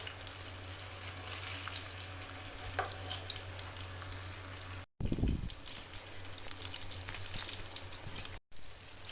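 Chandan kabab frying in an oil-filled pan, giving a steady close sizzle throughout with a brief low thump partway through as the pieces are turned; no one talks.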